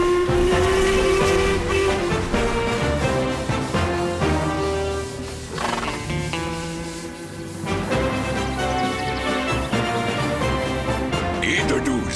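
A cartoon train runs in Lucky Luke, with a loud, continuous rumbling clatter and a sustained whistle-like tone at the start, then shifting mechanical layers throughout.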